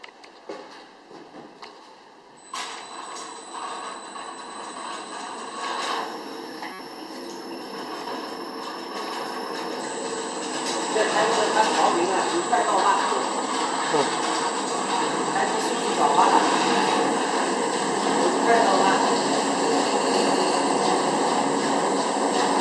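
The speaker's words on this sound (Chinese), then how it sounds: "先开着搅拌" A 1000L electric heating blending mixer tank, 220V 60Hz, runs with a steady mechanical whine and high tonal hum that shifts pitch several times, growing louder and rougher partway through as it speeds up.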